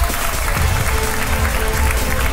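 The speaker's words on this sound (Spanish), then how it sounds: "Recibimos con un fuerte aplauso a Luján Carlota." A studio audience on a Uruguayan game show greets a contestant with loud, continuous applause, a thick wash of clapping that stays steady throughout with little else audible.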